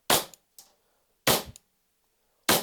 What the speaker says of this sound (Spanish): La amartillamos como las reales y procedemos a disparar.